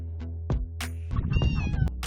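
A cat meows clearly and close by, a few short calls followed by a longer, wavering meow, with faint rustling underneath.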